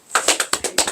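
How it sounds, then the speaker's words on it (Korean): A church congregation in Mokpo clapping after a sermon, a handful of sharp, evenly spaced claps in quick rhythm, close and moderately loud with no talking. "자, 박수."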